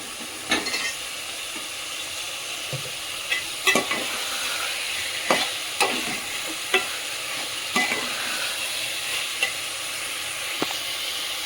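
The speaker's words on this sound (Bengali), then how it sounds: "হাই ফ্লেমে আমি এটাকে একটু ভেজে নেবো। চাল, ডাল, আলু সব একসাথে ভেজে নিচ্ছি।" Rice, lentils and potatoes fry together in a pan over a high flame for khichuri, giving a steady sizzle and hiss broken by repeated scraping clicks of stirring, close and fairly loud, with no talking.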